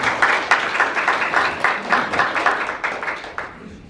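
Rhythmic audience applause welcoming the head coach at a Korean community sports team send-off ceremony in Atlanta, claps falling into a loose steady beat before fading out at the end.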